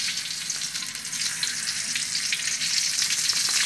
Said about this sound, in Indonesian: Masukkan sedikit minyak goreng untuk menumis.